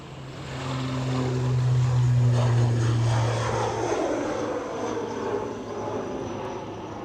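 A Loganair propeller airliner takes off at Edinburgh Airport bound for Exeter, its engine drone building into a loud, steady roar with a low throbbing hum that swells through the middle and then slowly recedes.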